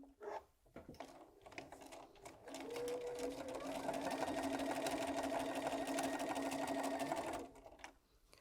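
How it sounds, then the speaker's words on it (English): A sewing machine runs steadily for several seconds, joining fabric squares placed right sides together with a quarter-inch seam. A short start-up comes first and a clear stop ends it, with a faint voice in the background. "So I've got my 4 squares and I'm going to sew them together."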